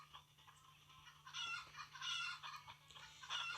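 Several chickens cluck in bursts in the video game Stickman Party, fairly close, against a steady low background hum with no voices.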